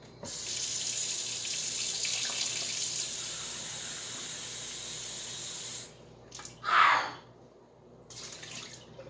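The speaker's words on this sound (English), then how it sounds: "we're going to add a cup of hot water." Hot water runs from a tap into a cup while making homemade flour tortillas, a steady close hiss for several seconds, then a brief gurgling splash before stopping.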